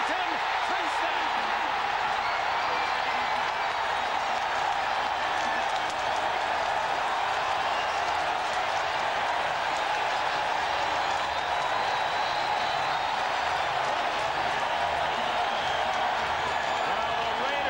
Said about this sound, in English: the Raiders fans cheer as they're about to take the lead